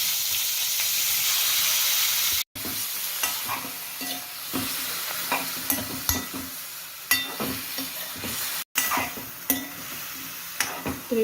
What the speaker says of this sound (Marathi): आता मी फिश फ्राय करून घेते थोडंसं त्यामध्ये